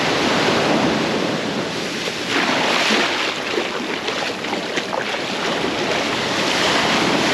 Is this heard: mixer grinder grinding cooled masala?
no